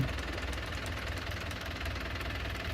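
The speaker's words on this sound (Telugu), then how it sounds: "కిక్కర్ కొడుతున్నారు అన్నమాట ఆయిల్ అందడానికి. కిక్కర్ కొట్టి స్టార్ట్ చేస్తారేమో." A harvesting machine's engine knocks and chugs at low volume as it is kick-started while its battery is flat, a steady rough mechanical rattle with no voices over it.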